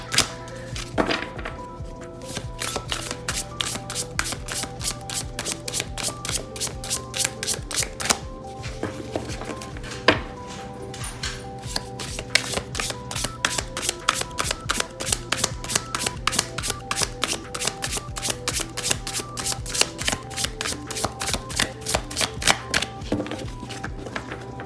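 Continuous riffle of tarot cards being shuffled, a dense rapid flutter of crisp slaps repeating steadily over a low steady hum, close and fairly loud.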